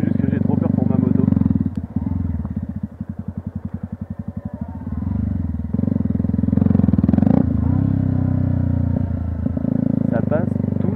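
A Yamaha YZF 125 R sport motorcycle ridden off-road, its engine droning loud and close with rhythmic chugging dips and revs, wind and clatter over the ride.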